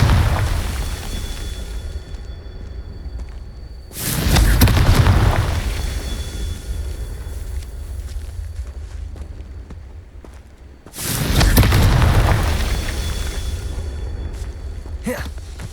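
Two heavy booming blasts from the Confringo spell in Hogwarts Legacy, each a loud burst followed by a long rumbling decay, spaced about seven seconds apart.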